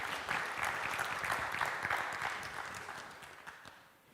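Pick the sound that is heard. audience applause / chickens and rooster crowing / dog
audience applause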